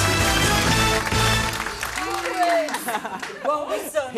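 A studio audience in a TV chat show applauds as a guest enters, dense clapping that fades within about two seconds as voices take over.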